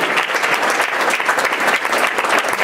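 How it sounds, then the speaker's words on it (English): A dense, steady burst of applause from a large audience, many hands clapping at once without pause. "Let's give a round of applause for the people who created this for IT"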